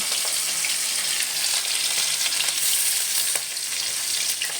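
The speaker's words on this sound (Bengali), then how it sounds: "হালকা করে ভেজে নেব" Hilsa fish frying lightly in hot oil for village-style shorshe ilish, a steady, dense sizzle and crackle that runs continuously and loudly throughout with no talk.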